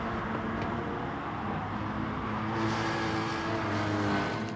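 A race car engine in a GT touring car racing video game drones steadily and builds as the driver gets back on the power out of a downhill corner, a continuous close, loud tone with no talk.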